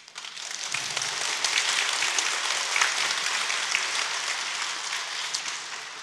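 A church congregation breaks into applause during a Thursday worship service sermon, the clapping swelling quickly after a quiet start and holding dense and steady before easing slightly at the end.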